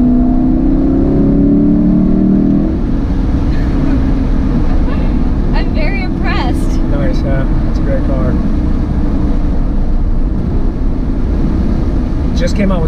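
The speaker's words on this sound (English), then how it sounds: "this is a naturally aspirated 5-liter V8" A 2018 Lexus LC500 with a naturally aspirated 5-liter V8 pulls hard, its engine droning loudly and steadily from inside the cabin as the revs hold and then rise.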